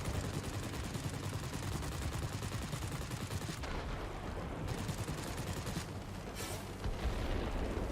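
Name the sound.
aircraft machine gun fire in World of Warplanes video game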